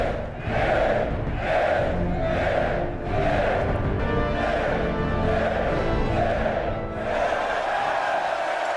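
Roman arena crowd in the film Gladiator chanting and roaring in rhythmic surges, a massed chorus of voices swelling and falling roughly once a second, loud and sustained.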